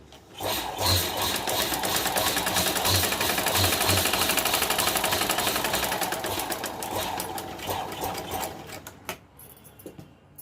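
A home sewing machine runs a fast, steady rattling stitch through fabric for a homemade purse, close and even for several seconds before slowing and stopping with a few clicks.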